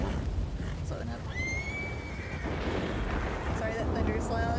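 Horses whinny in the Red Dead roleplay game WildRP, one long high neigh rising clearly over a rumbling background with hoof and wind noise, followed by shorter whinnies near the end.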